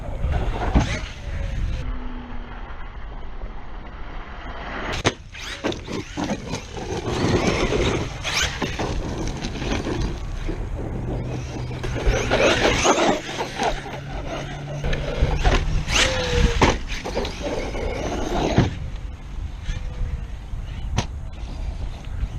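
Traxxas Sledge RC monster truck with ballooning tires driving on a loose surface, its quiet, smooth motor whine and crunching tire noise steady throughout, with sharp clacks and squeals from jumps and landings.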